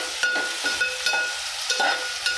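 Onion pieces frying in a pan for a Telugu okra fry, a soft steady sizzle with light scraping stir strokes recurring every half second or so, close and fairly quiet.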